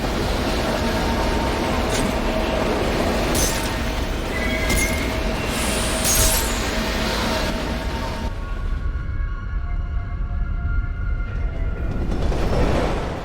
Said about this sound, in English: After being thrown from the subway train we finally got onto,